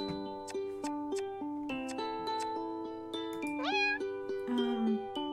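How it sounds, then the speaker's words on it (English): A cute pink cat meowing in the Purrfect Date game, a run of short, clear mews and a few rising meows, close and distinct over soft background music. "It's a cute pink kitty."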